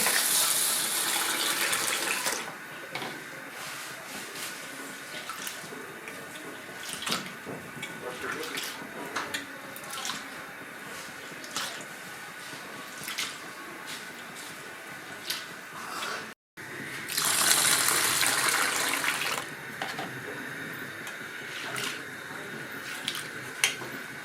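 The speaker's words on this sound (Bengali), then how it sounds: "এবার ডালটা ভালো করে ধুয়ে নিচ্ছি" Red lentils (masoor dal) are washed in a kitchen, with running water and sloshing, swirling rinses that come close and steady, louder at the start and again near the end, while a voice speaks faintly underneath.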